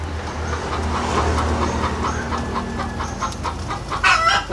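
A chicken clucks beside its eggs in a noisy backyard setting, with short repeated calls over a constant rumbling background that grows a little louder toward the end.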